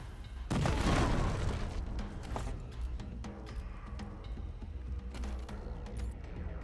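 A frag grenade detonates in the Wasteland 3 video game: one loud, close boom with a broad rumbling blast that slowly decays, followed by scattered clicks, pops and lingering battle noise.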